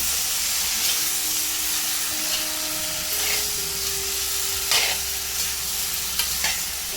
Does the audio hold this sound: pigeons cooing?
no